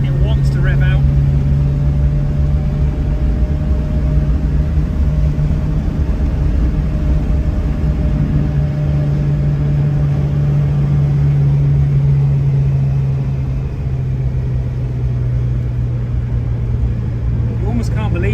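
A Fiat 850's small engine is held at high revs, giving a loud, steady drone with a sustained tone that shifts slightly late on, heard close up throughout.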